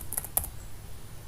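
A few quiet, clicky keystrokes on a computer keyboard as a command is typed, brief irregular taps separated by short pauses.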